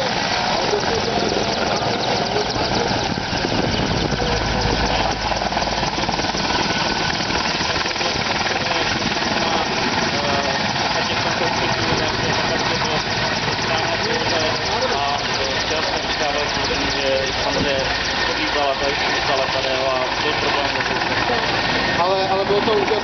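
Aircraft engine running up before flight at the Roudnice nad Labem Memorial Air Show, a constant rough droning rumble heard throughout at steady level, with voices faintly audible underneath.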